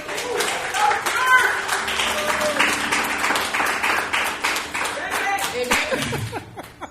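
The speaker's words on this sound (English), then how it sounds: "Can we give her a clap?" An audience claps for Chanell Boyd, owner of Chanell Gallery, at a live storytelling event, with steady applause running the whole way and a few chuckles and voices mixed in.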